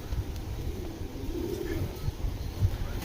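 A male Belgian red fox racing pigeon coos softly close by, a few low murmuring calls set against a steady background hum and light rustling.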